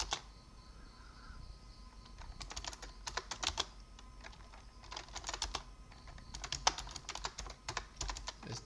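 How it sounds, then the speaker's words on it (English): Rapid keystrokes on a computer keyboard come in bursts while a Linux command is typed in the terminal, with short pauses between clusters of clicks, close and clear with no talking. "Let's type in sudo make clean install"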